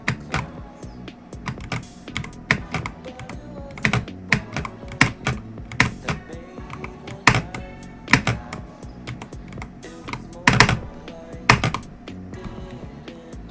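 Computer keyboard keys, the spacebar among them, tapped in irregular bursts during platformer game play, crisp close clicks with uneven gaps, some quick doubled presses and a few louder thumps, no voice.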